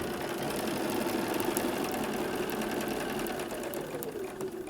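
A sewing machine runs continuously, stitching pieces of an English paper piecing daisy chain quilt, with a steady loud mechanical whir and rapid needle chatter that eases slightly toward the end.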